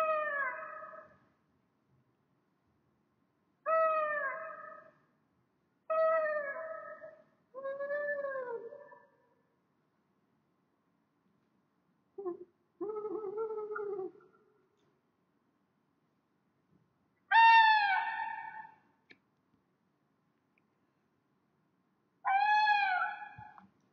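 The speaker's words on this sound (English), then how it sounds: "let us hear what sounds owls can make." Owls call in a series of separate, wavering, harmonic cries. About eight calls come in uneven clusters with silent gaps between them, heard clearly and alone with no voices.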